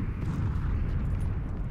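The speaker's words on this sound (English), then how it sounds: "The explosions." Muffled low rumbling booms from distant explosions in PlayerUnknown's Battlegrounds, a steady dull roar filling the stretch with no speech.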